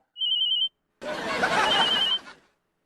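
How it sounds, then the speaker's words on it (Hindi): A high electronic telephone trill rings briefly, then a loud burst of rough, noisy rustling follows and fades. "ये किसका फोन है?"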